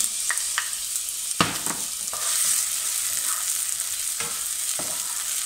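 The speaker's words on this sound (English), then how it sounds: "I'm going to let this fry away on a medium heat now for a good 2-3 minutes" Chopped onion fries in heated oil in a pan on medium heat, a steady close sizzle punctuated by a handful of sharp stirring knocks and scrapes, with no voices.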